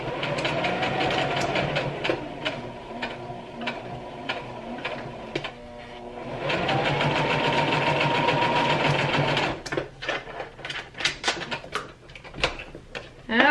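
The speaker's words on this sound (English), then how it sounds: "So I just popped out that little bit and I'm gonna restitch that section." Sewing machine restitching a seam on a simple ponytail scrub cap, running in loud rapid mechanical bursts with short stops between them, then a longer steady run followed by scattered clicks and taps.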